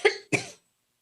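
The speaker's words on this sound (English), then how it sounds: "I'm going to have to cough" Two quick coughs come close together from a single person, loud and near, then silence follows.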